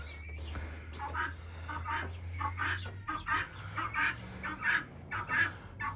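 Guinea fowl calling repeatedly on a rainy day, a run of sharp rhythmic cries rising over steady rain and low background rumble, moderately near, with ducks nearby.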